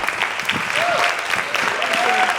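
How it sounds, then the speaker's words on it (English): An audience at a community panel discussion on discrimination applauds the panelists, a close, steady clatter of hands with a couple of piercing whistles cutting through. "Will you give a loud round of applause for our panelists?"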